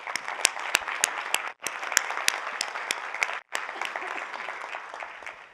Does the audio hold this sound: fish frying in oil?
no